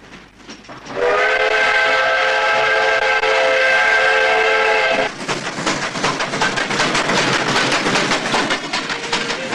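A loud, sustained train whistle with layered harmonic tones blows for about four seconds, then gives way to the rumbling, clattering rush of a passing train, from the 1982 film Domoy.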